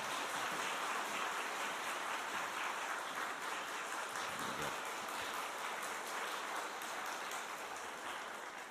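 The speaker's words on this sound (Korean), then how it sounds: "우리 나오실 때 큰 박수로 우리 목사님 모시도록 하겠습니다." A church congregation claps steadily to welcome their pastor to the front of the sanctuary, a soft, even patter of many hands that stays distant and fairly quiet throughout, with no voices over it.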